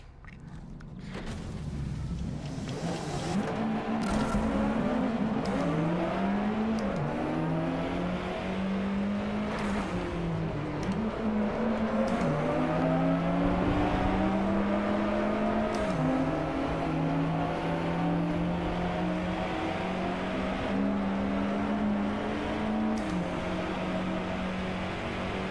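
Alfa Romeo 4C engine in the Driveclub VR racing game, a continuous loud drone that rises and falls with revving and gear changes across the whole stretch, with no talk over it.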